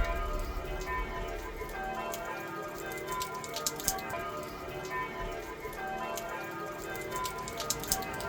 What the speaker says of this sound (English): the church bells are going now